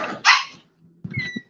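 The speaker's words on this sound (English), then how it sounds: "he just sounds like that because he's a Chihuahua" A Chihuahua barks in a few sharp, high yappy bursts, first a quick pair and then a short run of yips after a pause, close and fairly loud with no talk.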